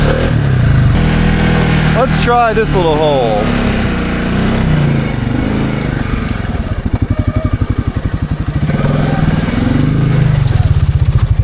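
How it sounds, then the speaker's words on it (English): The single-cylinder engine of a Can-Am Outlander ATV on 33-inch tires with gear reduction revs and chugs up close in uneven pulses on a steep climb, while someone talks over it. "This little single cylinder puts out some serious torque."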